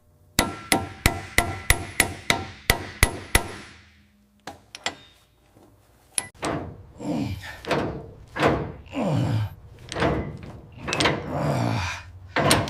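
An extractor socket is hammered onto a rounded bolt on a 1960s Mini Cooper S. About ten sharp, evenly spaced metallic hammer blows ring out close by, followed by irregular clunks and scraping thuds as the socket is worked on.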